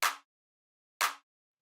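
Short mono clap sample for future house, two crisp quick hits about a second apart, each a bright snap that dies away almost at once into silence.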